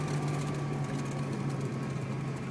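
A 1989 Ferrari 328 GTS engine drones at an even pitch, a loud continuous hum with a faint buzzing vibration and no speech.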